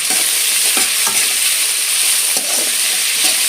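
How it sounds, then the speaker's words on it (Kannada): Tamarind rice mixture, salted, fries in a pan with a steady, loud sizzle, while spoon scrapes and stirring strokes come through at irregular intervals; no one speaks. "ಇವಾಗ ಚೆನ್ನಾಗಿ ಫ್ರೈ ಆಗಬೇಕು"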